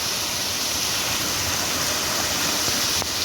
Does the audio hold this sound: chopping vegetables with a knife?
no